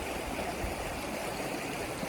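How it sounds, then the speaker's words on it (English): A river rushes through a valley in the Alaska wilderness, producing a steady, full, close wash of flowing water that never lets up. "But I'm following the river right here."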